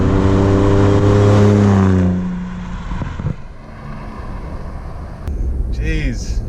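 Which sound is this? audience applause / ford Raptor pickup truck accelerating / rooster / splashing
ford Raptor pickup truck accelerating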